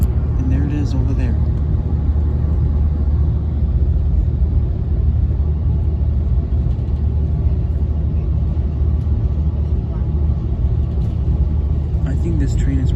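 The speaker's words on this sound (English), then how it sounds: "I think this train is running faster than the traffic on the freeway." Aboard Amtrak Capitol Corridor Train #543, hauled by an SC44 locomotive, a continuous low rumble runs beside freeway traffic. The heavy, steady drone holds throughout, with voices faintly audible underneath.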